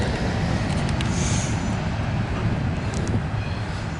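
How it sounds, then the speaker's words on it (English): An EMD diesel locomotive on a CSX local freight train rumbles steadily and loudly, with a constant low engine drone and no voices. "Oh, I love that sound of EMD."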